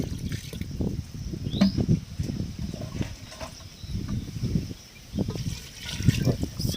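Water pours and trickles into a pan while cooking chicken, in uneven bursts, splashing and gurgling close by with brief pauses between flows.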